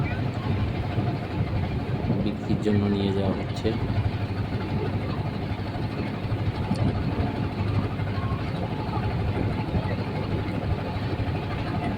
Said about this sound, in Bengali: এই যে ট্রলে করলে বালু নিয়ে যাচ্ছে